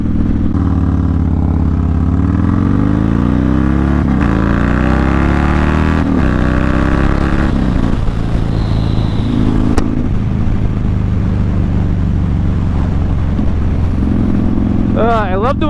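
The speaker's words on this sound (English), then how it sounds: "I love the way this bike pulls so much" A motorcycle pulls hard under acceleration on a beach road, its engine loud and close with rising, shifting pitch sweeps through the gears, then settling into a steadier drone with wind noise.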